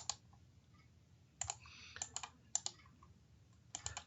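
Financial calculator keys tapped in short bursts of quick plastic clicks, close and fairly quiet, with pauses between entries of years and interest-rate figures.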